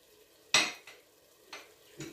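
A utensil stirs food in a pot while cooking a lentil dish, a few distinct metallic scrapes and clinks spaced about a second apart, close and fairly quiet with no talk.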